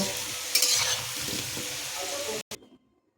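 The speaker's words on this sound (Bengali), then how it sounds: "আলুগুলোকে সুন্দর করে লাল করে আমি ভেজে নেবো" Potato pieces sizzle in hot oil in a wok while a spatula stirs and scrapes them, a steady frying hiss with a sharp clatter early on, then it cuts to near silence.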